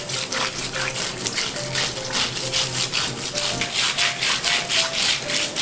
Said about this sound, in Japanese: んじゃあこれを洗い流していきましょう。